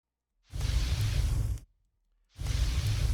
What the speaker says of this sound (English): a little bit of a fire sizzle. This is what it sounds like.